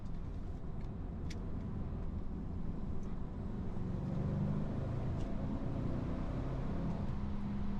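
A Bentley is driven hard through S-bends, heard as a low, steady engine and road drone from inside the car, with the engine note rising and swelling in the second half and no talk.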